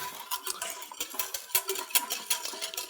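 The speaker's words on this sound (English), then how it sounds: "I'm going to keep stirring this last little bit" Hollandaise sauce being stirred in a pan off the heat, giving a run of soft, quiet scraping and light clinks of utensil against the pan in an irregular rhythm, close by and with no talking.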